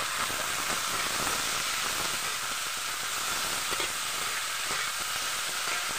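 Eggplant (talong) frying for adobong talong sizzles loudly and steadily in a pan, with repeated stirring scrapes and soft clicks running through the hiss.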